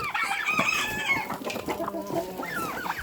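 Chickens and turkeys cluck and chatter continuously at close range while being fed grain in a farmyard of so-called swamp hens, a dense flock of overlapping calls with occasional louder squawks.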